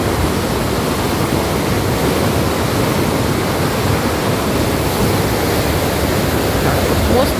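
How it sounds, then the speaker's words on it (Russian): A fast mountain river near Elbrus rushes in a steady, loud roar of churning water, continuous and close, with no break. "горная река. Такая быстрая."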